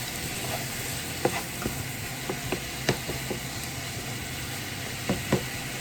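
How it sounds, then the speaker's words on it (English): Ground meat browning with onions and celery in a pan, a steady dense sizzle with occasional clinks and scrapes of stirring, close and fairly loud, no talking. "I'm going to brown our meat and let those veggies get tender."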